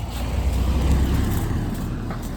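A car passes along a narrow country lane, a steady low engine and tyre rumble holding close and fairly loud throughout with no talk over it.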